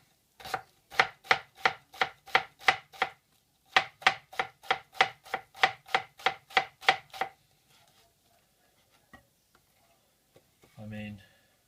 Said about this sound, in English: talk about slicing an onion.